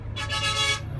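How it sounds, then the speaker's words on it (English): Car horns honking in busy Chinese city street traffic, a sustained blaring toot held for about a second over a low rumble of engines. "They honk a lot here."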